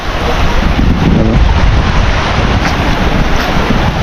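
Sea waves washing onto a beach at Mansalay, Mindoro, in a loud continuous roar, with wind buffeting the microphone.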